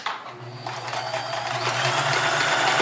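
A Sears Kenmore 158 series sewing machine stitches fabric in a steady, close mechanical whir with fast needle chatter that builds slightly louder toward the end, with no talking.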